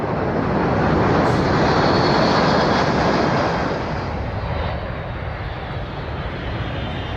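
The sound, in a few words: C-17 transport aircraft flying at airshow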